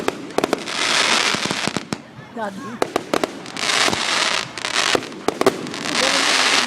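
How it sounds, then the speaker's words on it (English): Fireworks burst in rapid, loud repeated bangs and crackles at an RV camping resort, with a brief lull in the middle, and a child calls out between the explosions. "so those were the fireworks"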